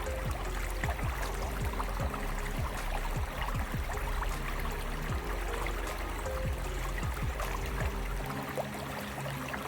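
A steady flowing stream burbles and trickles continuously, a soft even wash of moving water with no voices.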